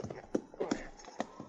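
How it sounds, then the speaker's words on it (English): Horse hooves clip-clop in an irregular walking rhythm, several distinct close knocks over a brief stretch, amid a radio western drama scene. "I'll lead one horse, Gus."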